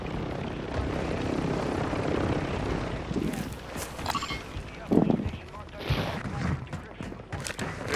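Helicopter in the Call of Duty video game, a steady broadband rotor and engine roar running the whole time while players talk over it.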